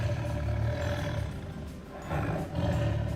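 A tiger roars with a deep, rumbling, continuous growl that swells, dips briefly, then surges again, loud and close with no other sounds.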